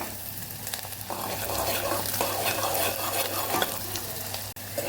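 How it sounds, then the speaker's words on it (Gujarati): Sliced onions and green chilies sautéing in a hot pan, a loud continuous sizzle with scraping stirs of a spatula, close and without voices. "ડુંગળીનો કલર બદલાય ત્યાં સુધી આપણે એને સાતળવાની છે"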